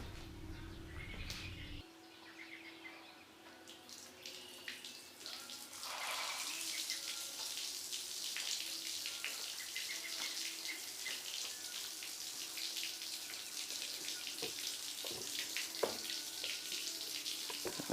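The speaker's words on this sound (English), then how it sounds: "So I'm going to go turn the hose on and get some water in here" Water from a garden hose pours steadily into a 2004 Nitro 640 LX bass boat, a continuous close splashing hiss that carries on alone from start to finish.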